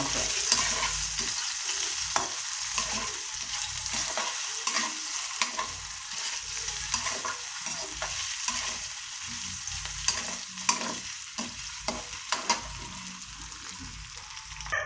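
Meatballs sizzle steadily in a hot pan while a utensil scrapes and stirs at irregular intervals, close and fairly loud throughout.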